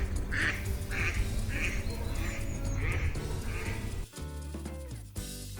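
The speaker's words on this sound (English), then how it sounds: "D for duck." A cartoon duck quacks repeatedly in a steady rhythm over a bright children's song with music, loud and close, before the music shifts near the end.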